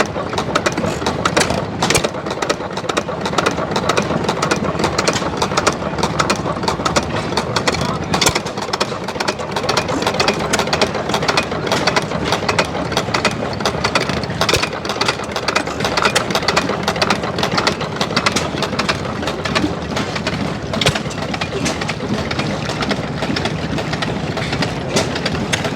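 Several antique hit-and-miss engines run together at an outdoor tractor show, a steady mechanical chugging and rumble that continues for the whole stretch, with voices mixed into the background.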